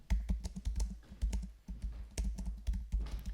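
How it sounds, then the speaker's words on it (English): Rapid typing on a computer keyboard, close and clear, with irregular bursts of key clicks and short pauses and no talking. "so I'm really typing extremely badly"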